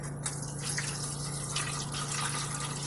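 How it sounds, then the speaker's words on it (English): Water poured steadily into the inner bowl of a pressure cooker, a soft continuous gush and trickle heard close up over low background hum, with no talking. "I'm pouring water in a way that will allow me to place the"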